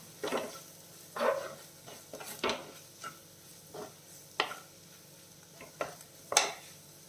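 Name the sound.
spice powders being sautéed in a pan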